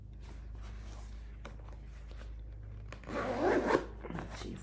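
The back zipper of a tall light-brown wide-calf boot is pulled, a short rasping zip near the end, close by, after quieter handling and rustling.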